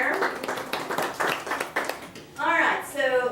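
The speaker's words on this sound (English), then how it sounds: "Always clap for that." A room of real estate team members claps briefly for an agent reaching a commission cap, scattered applause mixed with talking, then a speaking voice takes over.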